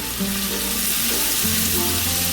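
Tomato dropped into a hot pan of chili paste sizzles loudly and steadily, a constant frying hiss with a fresh burst of crackle partway through, close and alone.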